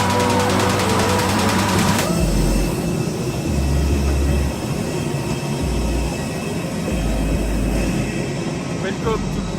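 Inside an airplane on a flight to Lubumbashi in Haut-Katanga, a loud, steady engine roar and cabin rumble runs throughout, with a shift in tone after the first couple of seconds.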